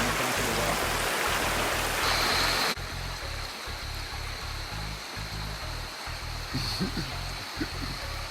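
River water rushes and splashes steadily at a riverside in Jamaica, a broad hissing wash that grows briefly louder then settles, with faint voices in the background.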